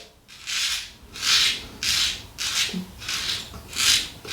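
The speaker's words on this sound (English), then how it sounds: "But hear that blade sing." Razorine Premium safety razor blade scraping across lathered stubble, six rhythmic raspy strokes about half a second apart, close and fairly loud, with no talking.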